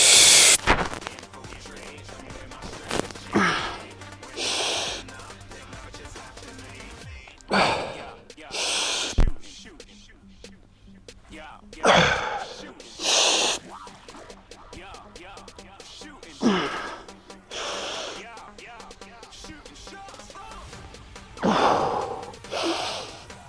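A man's heavy breathing during sets of dips exercise reps, loud sharp exhalations and gasps repeating at irregular intervals with quieter stretches between them.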